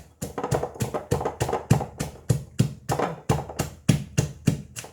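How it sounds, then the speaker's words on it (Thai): A pestle pounds shallots, chili and lemongrass for a coarse curry paste in a mortar, a steady run of about fifteen heavy, close thuds at a brisk, even rhythm with no talk. "หอมแดง พริก แล้วก็ตะไคร้โขกรวมกันเลย เอาพอหยาบหยาบพอ"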